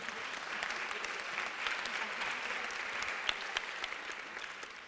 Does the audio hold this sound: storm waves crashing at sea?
no